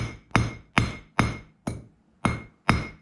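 A hammer strikes a troy-ounce silver bracelet being forged, six sharp ringing metallic blows at a steady, unhurried pace, each decaying before the next, close and loud with no talk.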